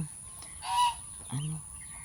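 Two loud goose honks, a nasal blaring call and then a shorter one, close by over a low rumbling background.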